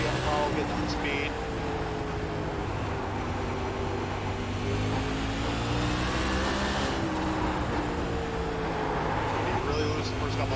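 A sprint car engine on the Concord track in iRacing climbs steadily in pitch as it gently accelerates out of the pits, a continuous buzzing drone with a voice faintly present beneath.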